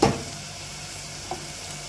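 Ginger garlic paste fries in a hot pan with a steady, close sizzle, opening with a short clatter of stirring and a soft knock a little past the midpoint.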